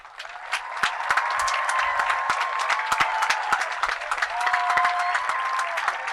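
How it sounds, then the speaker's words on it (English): Sustained audience applause fills a high school graduation ceremony hall, dense overlapping claps with a few sharp nearby hand claps, with faint whistles or cheers rising briefly on top throughout. "please rise so we can give a round of applause"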